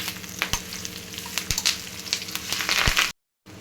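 Hibiscus flowers, neem leaves, onion and aloe vera stirred together in hot oil for homemade hair oil, a continuous close sizzle broken by occasional sharp clicks of a spoon against the pan, ending in abrupt silence.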